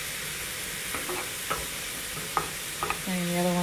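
Onions sizzle and brown in a pan for an onion baghar, a soft frying hiss with a few clinks from stirring, then a brief tonal hum near the end.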